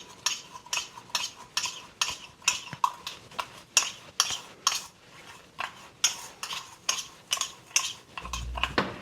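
A spoon beats Bustelo coffee foam in a cup, giving a fast, steady run of sharp clinking strokes against the cup that continue without pause throughout.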